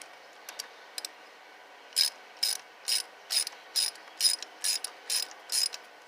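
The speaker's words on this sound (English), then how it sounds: "we're going to loosen all 4 bolts that go to these coil packs." A ratchet loosening coil pack bolts on an Evinrude/Johnson outboard engine, a few scattered clicks followed by eight evenly spaced bursts of close, crisp ratcheting.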